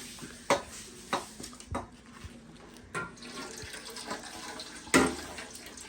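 Water is scooped and poured in repeated splashy bursts while washing, each pour followed by trickling, with gentle handling noises in between, close and fairly quiet.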